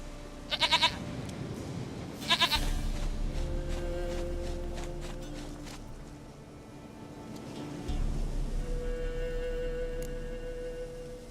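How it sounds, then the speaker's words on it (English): Goat bleats from the video game The Witcher 3, two short quivering calls near the start over a steady background of ambient game music and hum, with faint footstep-like taps later. "Goat of mine, dearest, sweetest goat."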